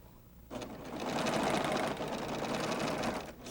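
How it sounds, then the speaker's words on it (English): Serger stitching a full quarter-inch fabric strip for a quilt, a fast whirring machine run starting abruptly and buzzing steadily for about three seconds before stopping, close and alone. "now we're ready to go to the serger"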